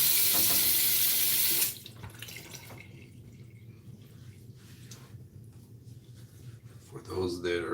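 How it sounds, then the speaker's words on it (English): A water tap gushes loudly for a couple of seconds while hands are rinsed at a sink, then the flow cuts off, leaving quiet shuffling and light dripping and clinks under a voice speaking. "Rinse my hands."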